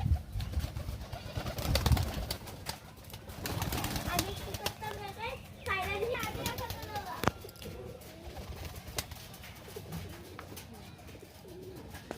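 Soft pigeon cooing repeats through the clip amid flapping and rustling, with people talking nearby.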